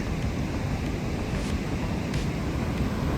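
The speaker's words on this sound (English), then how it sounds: "the waves are bigger than yesterday" Ocean waves on a rainy day at Barra da Lagoa beach in Florianopolis, Brazil, a steady broad wash of surf mixed with wind rumble on the microphone, continuous and without talking.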